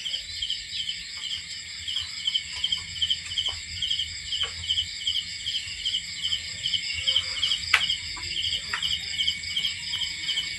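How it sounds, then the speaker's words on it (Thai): Dense, continuous insect chirring of crickets and cicadas pulses steadily throughout, with a few faint clicks and a brief sharp tick. "มีแต่เสียงแมงจักจั่นจิลีด"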